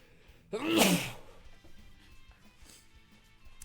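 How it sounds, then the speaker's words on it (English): A single sharp, close sneeze bursts out, followed by quiet room noise. "I'm going to sneeze, so bear with me."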